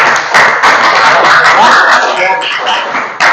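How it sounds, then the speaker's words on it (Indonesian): A classroom group claps together in a dense, continuous burst of applause lasting a few seconds, fairly loud and close, with some voices mixed in. "tepuk tangannya lagi dong"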